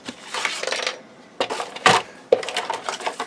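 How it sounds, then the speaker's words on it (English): A paper trimmer blade slices through cardstock during album crafting, giving a few dry scraping cuts with short gaps between them. The strokes are close and fairly loud, and no one is talking. "I've got my trimmer here, so I'm just going to use that."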